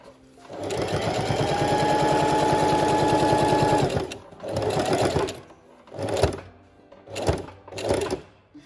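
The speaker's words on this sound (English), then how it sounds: "Now I find with my sewing machine" A sewing machine stitches fabric for an eye pillow in one long steady run of about three seconds, then starts and stops in several shorter bursts, loud and close.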